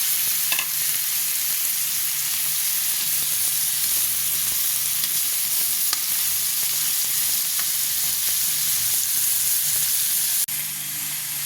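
Shrimp sizzling steadily in a hot pan with ground meat for a Filipino upo squash sauté, a continuous close frying hiss with faint stirring clinks and no talk.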